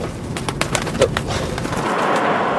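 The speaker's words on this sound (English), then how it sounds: "My doves have escaped." Doves loose after escaping from a magic box, cooing softly amid outdoor background noise, with a few brief sharper bird calls.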